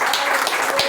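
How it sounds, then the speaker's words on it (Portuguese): Brief burst of applause from a church congregation, a dense wash of clapping under a faint steady tone, lasting under a second. "Quantos pode aplaudir a Cristo aqui"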